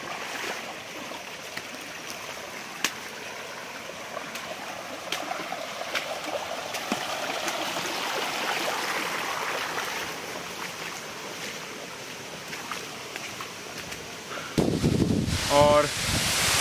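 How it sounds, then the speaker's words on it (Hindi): Tamkada waterfall near Ambe-Khalsi, Sangamner, flowing with a steady broadband rush of falling water that holds even throughout, then grows louder and closer near the end. "फाइनली फाइनली ये रहा वाटरफॉल।"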